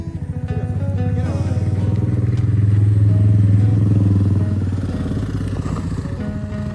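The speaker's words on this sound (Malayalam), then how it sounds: "അച്ഛൻ ബുള്ളറ്റ് എടുക്കാൻ പോവാ ഇതിനകത്ത് ഓടിക്കാൻ" A Bullet motorcycle thumps along over bumpy, pitted ground, its engine swelling to a loud close rumble and then easing, with faint clatter from the rough surface.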